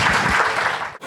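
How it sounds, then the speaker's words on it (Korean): Steady audience applause fills a studio broadcast about illegal gambling in Korea, continuous dense clapping at moderate loudness that cuts off abruptly near the end. "큰 박수 보내주시고 감사하겠습니다."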